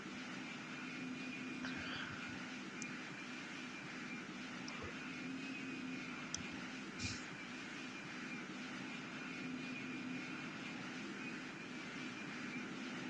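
Airplane engine in the Roblox Cargo Flights video game, heard as a steady, even drone with a faint hum throughout, broken only by a few brief soft clicks.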